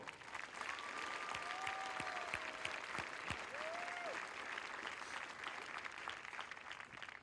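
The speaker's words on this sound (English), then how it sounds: "let's give them a round of applause for being the best BMT in the world" Distant crowd applause at an Air Force basic military training graduation, a steady wash of clapping from a large audience with faint whistles or voices rising over it.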